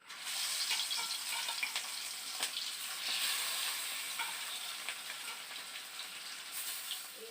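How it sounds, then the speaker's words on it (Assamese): Fish sizzling as it fries in a small amount of oil, a steady crackling hiss with scattered pops and spits, close and fairly loud throughout with no talking. "একদম কম তেলত মাছ ফ্ৰাই দিছো"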